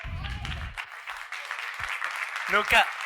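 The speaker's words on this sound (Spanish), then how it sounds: "Nunca me habían aplaudido por ser maricón." Brief audience applause at a tech conference talk, a short burst of clapping from a seated crowd that quickly fades, with a voice speaking over and after it.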